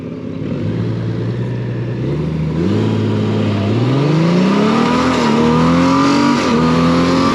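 A 2022 Honda Goldwing motorcycle revs up hard from a standstill, climbing through several gear shifts with rising pitch, loud and close, the roar building steadily.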